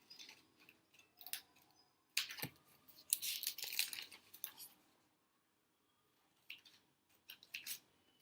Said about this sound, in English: Cut along the creases